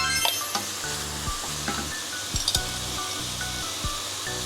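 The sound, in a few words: meat sautéing in pan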